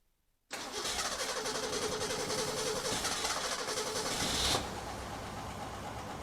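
A 1963 Ford Econoline pickup engine catches after a short silence and runs steadily at close range, a continuous mid-range rumble that swells briefly near the end before settling back into an even idle.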